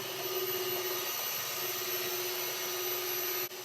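A candy-making machine for beekeeping, with a reversing auger and a 1.1 kW motor driving a heavy gearbox, runs with a loud, steady whining drone and a constant mechanical hum before cutting off abruptly near the end.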